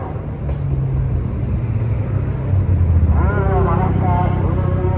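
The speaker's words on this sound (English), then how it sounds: "couple Supras pulling up" Toyota Supras pulling up at the Daikoku PA car meet in Japan, a loud steady engine rumble swelling as the cars approach, with someone talking over it throughout.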